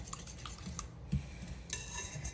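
Eggs and sugar are beaten by hand with an ordinary balloon whisk for a Swiss roll cake batter, giving quick, light metallic clinks and scrapes against a bowl, fairly quiet and steady, with no talking.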